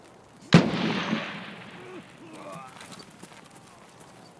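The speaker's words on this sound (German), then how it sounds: "irgendeiner hat vom Dings hinten geschossen" A single sharp gunshot in Escape From Tarkov cracks loudly and close, then decays into a long rumbling echo, with voices talking faintly afterward.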